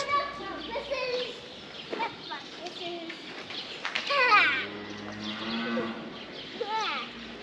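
Heifers on a farm let out several low moos, some close and some farther off, while children chatter and a bird calls faintly in the background.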